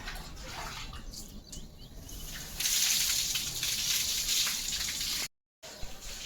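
Tap water running and splashing while a stick is washed at home, a steady close gush that grows louder and brighter midway, then cuts off briefly near the end.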